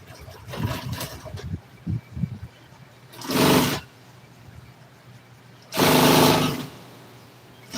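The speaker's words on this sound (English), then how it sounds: "When I back this sewing machine up," Two loud bursts of a sewing machine running while sewing a 90's Chevy W/T truck seat, each lasting about half a second, following some quieter handling and clatter.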